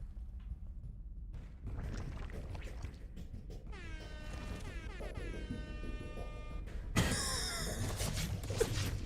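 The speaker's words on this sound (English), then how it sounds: "I also have the air horn I could do." An air horn sound effect played by a caster during a tournament stream blares in several quiet, far-sounding bursts with rising and falling pitch, closing with one brighter, stronger blast.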